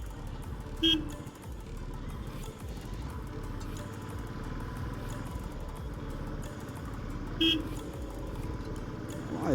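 Congested city road in a traffic jam, a low rumble of idling cars and motorcycles with two short car horn toots, one early and one late, under faint background noise.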